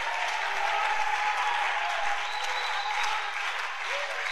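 Church congregation applauding and cheering in praise, a dense sustained wash of clapping from a large crowd with scattered voices mixed in, steady and loud throughout.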